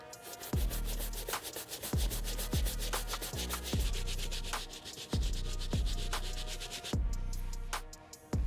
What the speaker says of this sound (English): I'm gonna be using 2 different brushes, our brass bristle brush, this blue brush to get inside the stitching, and of course, our solution